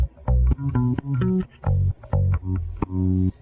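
Rickenbacker bass run through a CLA bass plugin, playing a punchy line of short, round low notes in a choppy rhythm with brief gaps between phrases, close and full.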